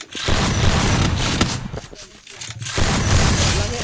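Shotgun gunfire in the Free Fire mobile game, dense loud bursts of shots filling the start and end with a brief quieter gap in the middle, with a voice talking in between.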